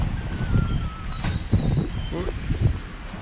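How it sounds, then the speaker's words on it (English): Wind blows and buffets outdoors in Grand Cayman, rumbling against the microphone in uneven gusts, with voices audible at times. "Windy."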